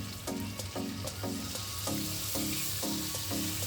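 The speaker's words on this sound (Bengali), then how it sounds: "এখন পরিমাণ মতো ঝোল দিয়ে দেব সেটা হওয়ার জন্য।" Hot water hisses loudly in a hot pan of cooked-down tripe, a continuous sizzle with a regular, pulsing stirring rhythm underneath.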